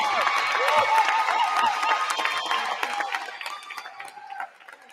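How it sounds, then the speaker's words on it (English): Applause and cheering from the audience at a Wayne State University employee recognition ceremony, a lively mix of clapping and voices that gradually fades toward the end. "some people bring along their cheering section"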